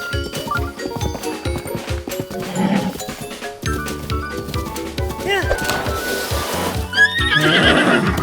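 A horse in the video game The Legend of Zelda: Breath of the Wild whinnies over rhythmic clip-clop of hooves, with game music and chimes layered throughout and no one talking.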